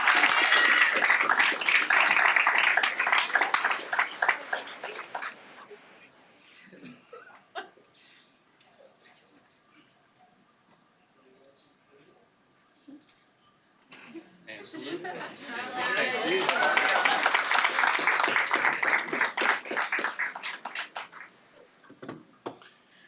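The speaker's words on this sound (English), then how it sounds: "please join me in giving them a big round of applause for their success this year" Two swells of audience applause for a high school gymnastics team at a school board meeting, each several seconds of loud, dense clapping, separated by a quieter stretch with scattered sounds and some voices.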